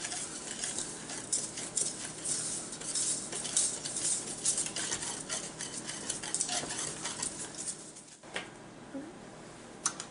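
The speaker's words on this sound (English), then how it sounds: "you can just take and mix all this together here" A spoon stirs butterscotch brownie batter with brown sugar in a pot just taken off the heat. The scraping and clinking is steady and close, then drops to quieter sounds near the end.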